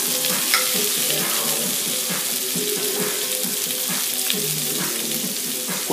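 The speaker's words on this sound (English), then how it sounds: "we're going to cook it in the frying pan until about medium rare" Halibut sizzles steadily in a hot frying pan, a close continuous crackle and hiss with faint clinks, while a voice talks in the background.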